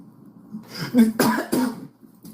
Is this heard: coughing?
yes